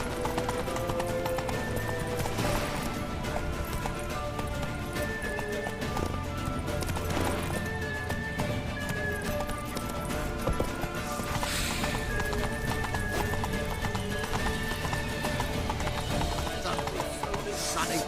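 Rapid clip-clopping hooves gallop steadily under a dense layer of music and shouted voices, with a brief horse whinny mixed in, in the video game The Witcher 3: Wild Hunt.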